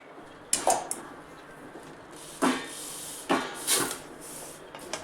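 Dry roasted sago and barnyard millet scraped from a pan onto a plate, heard as a few sharp wooden and metal scrapes and clatters, close and fairly quiet, spaced out over a few seconds.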